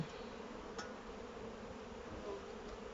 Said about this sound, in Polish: Pszczoły są u góry.